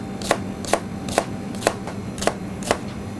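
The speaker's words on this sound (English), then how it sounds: "what we're aiming for with the peppers is we're just dicing them" Bell peppers are diced with a knife on a chopping board, six evenly spaced crisp knocks about half a second apart over a steady background hum, close up and with no talking.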